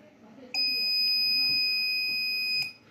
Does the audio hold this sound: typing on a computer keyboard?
no